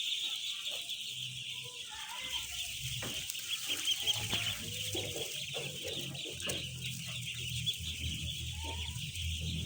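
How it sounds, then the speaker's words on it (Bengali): Hundreds of three-day-old ducklings on a farm fill the air with a continuous high, shrill chorus of peeping, steady and dense throughout, with low rumbling and clatter underneath. "500 হাঁসের বাচ্চা আনছি আমি।"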